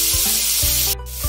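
Chopped onion hits a spoonful of hot butter in a pan, giving a loud, steady sizzle with scraping stirs, and no voices.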